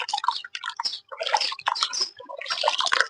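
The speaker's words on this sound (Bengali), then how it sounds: "এটাকে ধুয়ে নেবো ভালো করে একটু যদি এইভাবে ধুয়ে নেন" Used tea leaves being washed by hand in water: choppy, close splashing and sloshing in uneven bursts with brief pauses, fairly loud, with no talking.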